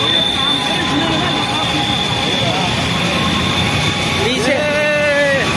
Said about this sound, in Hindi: पुरानी दिल्ली रेलवे स्टेशन है ये।